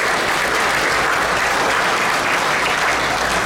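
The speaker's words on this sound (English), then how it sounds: "you all need to give yourself a round of applause" Banquet audience at an annual Top Cop Challenge applauding, a loud, dense and steady wash of many hands clapping together for several seconds with no break.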